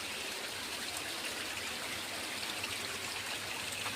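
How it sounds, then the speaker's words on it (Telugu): Heavy sudden rain pouring down steadily, a continuous even hiss and wash of water with no pauses, heard alone at a modest level. "సడన్గా వచ్చేసింది వర్షం."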